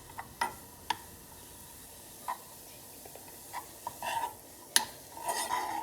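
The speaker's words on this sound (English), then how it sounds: "So make sure you keep stirring, stirring, stirring, and stirring really quick." Wheat flour halwa being stirred in a pot, a quiet scene of sporadic sharp ticks and clinks of a spoon against the metal with faint scraping between, close, no speech.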